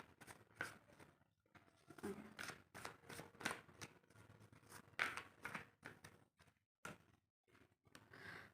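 Tarot cards shuffled and drawn from a deck in a quiet room, with soft papery riffles, slides and light taps in irregular bursts, faint and close, with a pause near the end.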